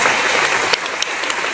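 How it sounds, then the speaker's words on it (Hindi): Audience applause at a company's 18th anniversary program, a steady wash of many hands clapping with no talk, dipping briefly near the end. "तो आपके लिए एक बार जोरदार ताली हो"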